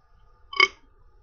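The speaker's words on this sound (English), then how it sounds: "These fucking weird burps, man." A man lets out a single short, close burp in an otherwise quiet moment, with no talking around it.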